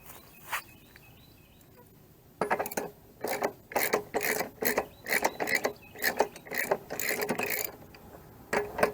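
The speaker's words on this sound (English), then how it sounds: "Let's go ahead and finish loosening up your axle nut." A ratchet works loose the rear axle nut on a Can-Am Spyder F3, giving repeated bursts of close, gritty clicking in an uneven rhythm, starting after a quiet moment with one early click.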